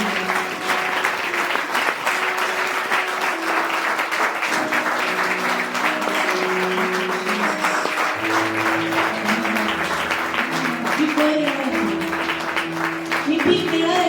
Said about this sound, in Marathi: टाळ्या वाजवून देवाला धन्यवाद.